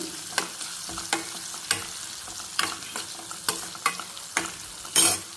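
Onions frying in a pan for curry, with a steady sizzle underneath and repeated sharp stirring scrapes roughly every half second, close and clear, no voices.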